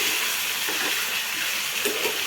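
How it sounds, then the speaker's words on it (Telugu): Boneless chicken, 250 grams, frying in a masala in a pan, giving a continuous broad sizzling hiss close by with faint stirring bumps. "దాంట్లో వేసి బాగా మంచిగా ఫ్రై చేసుకోవాలండి"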